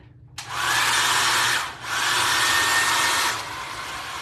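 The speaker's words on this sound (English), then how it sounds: "Then we'll take a few minutes to sand." Power sander working over a Target glass cloche for a DIY decor piece, two sustained loud whirring passes with a short dip between, then a quieter tail.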